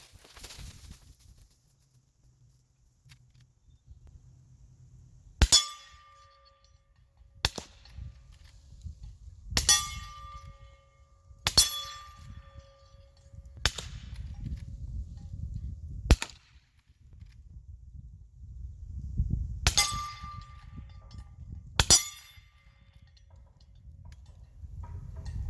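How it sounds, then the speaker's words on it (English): Henry Big Boy X lever-action in .44 Magnum firing at steel targets outdoors, with about eight sharp gunshots spaced a few seconds apart, several followed by a ringing metallic clang from the steel, some rounds landing in dirt. "you can see if you hear the steel louder than me, or if you hear the gunshot louder than the steel"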